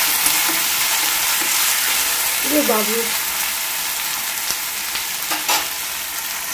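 Potatoes fry in a pan with a steady broadband sizzle running throughout, close and moderately loud, while a voice briefly speaks over it.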